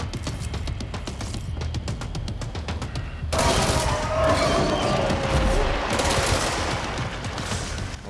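Sustained gunfire in Control, first as a rapid string of close sharp shots, then a louder, denser stretch of blasts and crashing impacts, with no talking.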